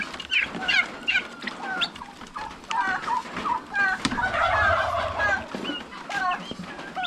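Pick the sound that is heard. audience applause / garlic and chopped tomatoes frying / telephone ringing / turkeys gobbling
turkeys gobbling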